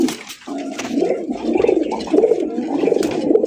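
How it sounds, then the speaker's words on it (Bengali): Racing pigeons cooing in repeated low, throaty rolls, several birds close by and steady for a few seconds with no talk. "রেসার কবুতর"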